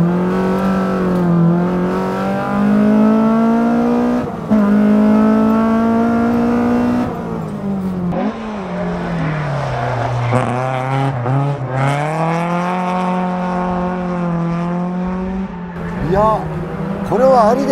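Toyota AE86 fitted with a 3S engine, driven and revved hard: a loud, raspy four-cylinder note climbing and dropping through gear changes, with brief lifts off the throttle and people talking over it.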